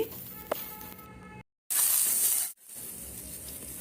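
Chopped onion and garlic frying in hot oil for a spicy egg curry, a steady hiss broken by a short silence and then a brighter burst of sizzling.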